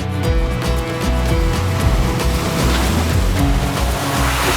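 An Audi Q8 e-tron Edition Dakar electric car pushing through an off-road water crossing, a loud continuous rush and slosh of splashing water close by, with no voices.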